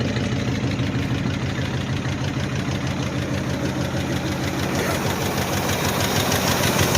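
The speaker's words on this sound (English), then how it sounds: "Still has a little shake to it, so it ain't running smooth." A 1977 Ford F150 engine that had sat since 1983 idling roughly, a close, loud, steady rumble with a rhythmic uneven knock and shake throughout, no talk.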